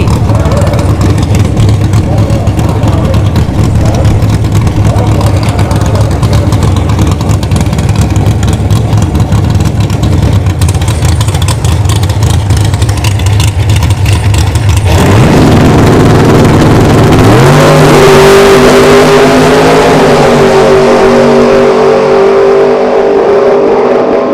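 Drag racing cars rumble and rev at a Bradenton Motorsports Park NHRA Bracket Series final, a steady loud engine drone shifting midway into rising, revving acceleration.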